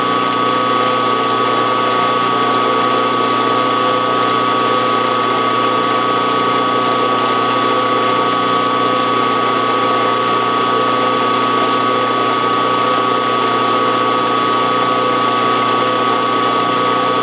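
A steady mechanical drone with a constant whine runs unchanged throughout, a drill spinning an end mill to spot-face a main bearing cap, loud and close.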